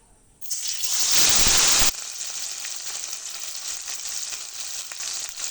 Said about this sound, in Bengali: কড়াইতে আমি তেল দিয়েছি, সরিষার তেল। তেলটা খুব ভালো করে গরম হয়ে গেছে। এবার আমি মাছটা দিয়ে দেব।